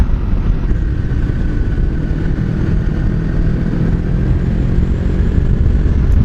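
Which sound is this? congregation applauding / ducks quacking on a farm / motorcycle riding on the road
motorcycle riding on the road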